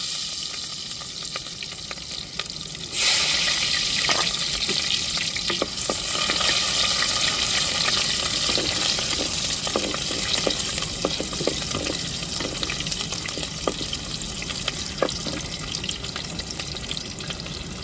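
Chopped onions hit hot oil with fenugreek seeds in a fish curry tempering, setting off a sudden loud, sustained sizzle that keeps hissing evenly, with faint stirring clicks throughout.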